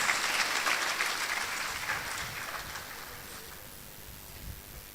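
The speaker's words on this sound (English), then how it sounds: "If you want to clap, clap." An audience at a university alumni conversation event breaks into applause, a dense, even clatter of many hands that is loud at first and gradually thins and fades over several seconds.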